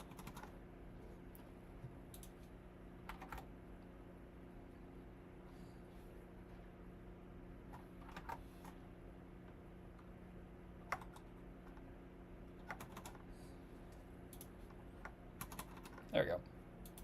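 Sparse, quiet clicks of a computer keyboard come in short bursts separated by long pauses during a coding session, with a faint steady hum underneath.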